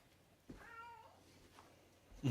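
A single drawn-out cat meow, moderately faint and slightly distant, followed by a brief louder bump near the end.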